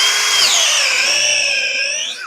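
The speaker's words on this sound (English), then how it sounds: "So we're just going to drill this out to an even 3/4" A power drill bores a hole out to 3/4 inch during a 60-inch zero-turn mower wheel repair, a loud steady high whine with a slight pitch dip that runs close up for over two seconds before winding down.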